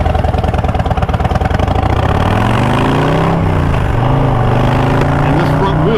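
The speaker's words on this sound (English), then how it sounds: "this motor makes you want to twist that throttle, because that 117 just rips" Harley-Davidson Low Rider ST motorcycle with its 117 engine of nearly 2000 cc, a loud, steady engine note that rises in pitch partway through as the throttle opens, running throughout under a voice.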